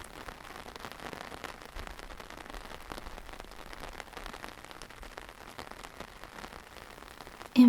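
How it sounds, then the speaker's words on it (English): Rain falls steadily over London at night near Buckingham Palace, a dense even patter of drops on surfaces, soft and continuous, with a brief louder knock at the end. "In front of you, you can watch London kissed by the rain."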